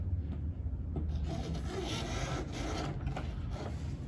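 A new coupler shaft slides into an Echo PAS unit with continuous rough rubbing and scraping of metal parts, dense and close, interrupted by a few sharper clicks, with no speech.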